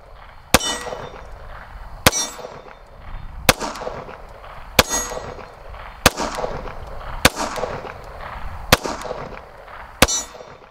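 A Tisas 1911 DS pistol fires Hornady Critical Duty defensive rounds, giving eight sharp, loud, close shots spaced about a second and a half apart, each with a ringing tail.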